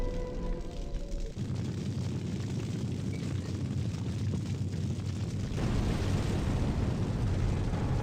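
A sustained, roaring, rumbling explosion in the video game Fahrenheit: Indigo Prophecy, a broad low boom that shifts and deepens partway through and keeps going, with no voices.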